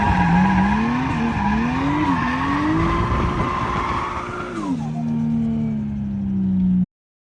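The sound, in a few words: car drifting with tires squealing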